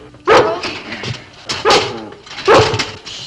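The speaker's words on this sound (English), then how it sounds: "Stop that barking!" A collie barks three times in a steady rhythm, loud and close, with brief gaps of quieter background between each bark.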